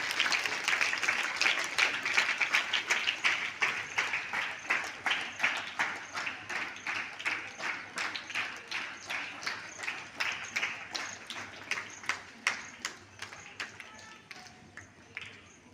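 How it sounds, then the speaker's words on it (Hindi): Audience applause at a World Smile Day event, starting as a full, loud ovation and thinning into slower, sparser individual claps toward the end, with some talk faintly beneath. "तालियां, आपकी तालियां प्लीज।"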